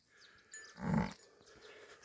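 A cow lows once in a cowshed with a calf and buffalo nearby, a single short, moderately near moo rising and fading over about half a second against a quiet background.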